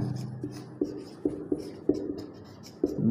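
Pen or chalk writing during an agriculture lesson on irrigation, heard as a run of short scratchy strokes and taps in irregular rhythm. The strokes are close and fairly quiet, with no talking over them.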